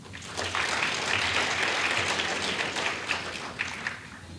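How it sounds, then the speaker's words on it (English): An audience at a Friday night event for the 2017 Columbus Indoor Soccer Cup gives a steady, sustained round of applause, with dense clapping filling the room from start to finish. "So please give them a round of applause."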